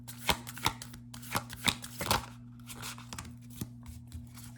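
Tarot cards are shuffled by hand close by, a run of crisp riffling slaps and soft flicks in an uneven rhythm over a faint steady hum.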